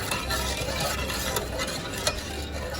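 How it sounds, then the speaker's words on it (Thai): A spoon stirs coconut milk and sugar in a pot for Thai sweet sticky rice, giving a continuous soft swishing and scraping with a few light clinks against the pot. "ที่เหลือเราก็ ใส่ให้หมดเลย แล้วก็คนส่วนผสมทุกอย่างให้เข้ากันค่ะ"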